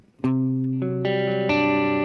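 Electric guitar played through a drive or lead tone with an always-on analog delay, sustained distorted chords that ring out and change a few times, loud and alone with no voice.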